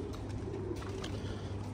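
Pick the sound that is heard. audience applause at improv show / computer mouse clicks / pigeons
pigeons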